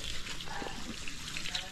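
Water runs steadily and strongly from a faucet fed by a pressure tank with a water filter, with a continuous hissing rush, fairly quiet throughout.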